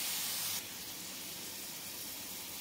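Pigeon pea grains dropped into hot oil in a pan give a steady, close hiss of sizzling that starts loud and settles into a softer, even fry.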